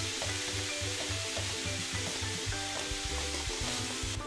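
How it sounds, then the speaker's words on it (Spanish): Meat for a turkey stuffing, seasoned with black pepper, fries in a pan with a steady close sizzle and a spattering hiss that runs the whole time. "Vamos a dejar que se cocine nuestra carne muy bien."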